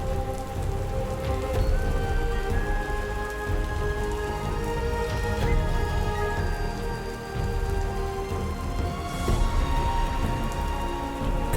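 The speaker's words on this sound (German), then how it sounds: "Für kurze Zeit regnet es in Strömen." Heavy rain pours steadily during a hike across the Alps, a dense, continuous hiss of drops hitting surfaces close by, unbroken and without voices.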